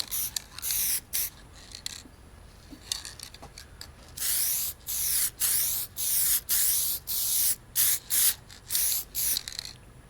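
Clear coat sprayed from a can onto laser-engraved wood, in a string of short, close hissing bursts that grow more regular and rhythmic in the second half, with no voices.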